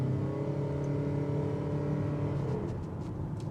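The petrol engine of a 2025 Mazda CX-50 Hybrid cuts in while driving, a steady low drone with whirring overtones under the cabin's road hum, constant and fairly close throughout.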